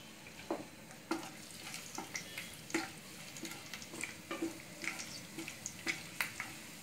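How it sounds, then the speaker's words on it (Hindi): Chopped garlic and green chillies fry in hot oil in a kadai, giving a soft steady sizzle broken by scattered small pops and stirring scrapes, faint and with no voices. "अभी ऑयल तो गर्म ही है, उसमें जो लहसुन कट के रखा था"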